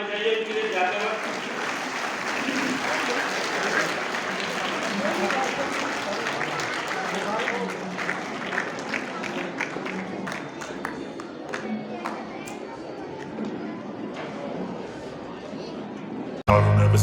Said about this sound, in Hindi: जोरदार तालियां बजाइए उनके लिए जाते वक्त